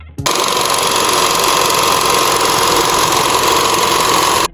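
A Mitsubishi Grandis engine with a faulty water pump runs close and loud, giving a constant grinding, whirring drone with a steady tonal whine, starting and stopping abruptly.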